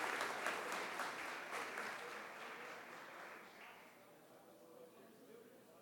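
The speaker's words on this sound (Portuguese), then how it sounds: "peço encarecidamente uma salva de palmas ao embaixador e à embaixatriz que hoje nos visitam" Applause in a legislative chamber session for a visiting ambassador and his wife, a broad, dense wash of clapping that starts strong and gradually thins and fades over several seconds.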